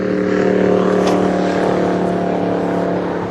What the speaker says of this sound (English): Here comes the Capri.